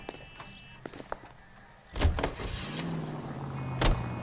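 A car in L.A. Noire: silence with a few faint clicks, then a sudden door-like thump as an engine starts. A steady motor hum carries on, with another heavy thud near the end.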